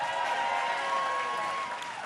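A comedy club audience applauding a comedian at the Manchester Comedy Store, a dense, steady wash of clapping and crowd noise throughout.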